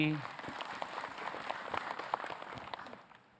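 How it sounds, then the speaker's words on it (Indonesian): Studio audience clapping for a religious teacher on an Islamic television talk show, a steady crackling patter of many hands with some voices in the background. "tepuk tangan buat Umi Maki"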